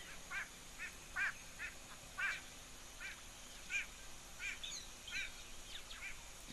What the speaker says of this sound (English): I think it might be one of the wattled starlings vocalizing